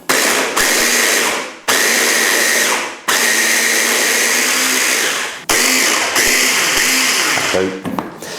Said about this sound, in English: I'm just going to, you know, blend it up, whiz it up, get it nice and fine.